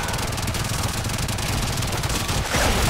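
Dense, continuous automatic gunfire rattles nonstop from the shooter game Warframe, loud and busy with a heavier burst at the very end.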